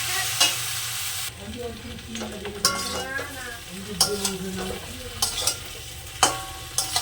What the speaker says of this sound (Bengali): তরকারিটা কষা হয়ে গেছে এবার হালকা একটু নাড়াচাড়া করে জল দিয়ে দেবে